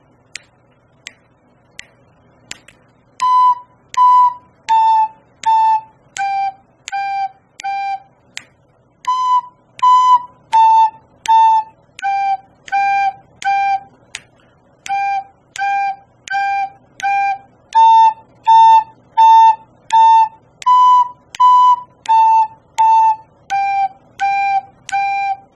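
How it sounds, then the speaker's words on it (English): Hot Cross Buns is played on a recorder as clear, evenly paced notes in repeated three-note phrases, preceded by a few metronome ticks that continue softly underneath. "Hot cross buns will sound like this."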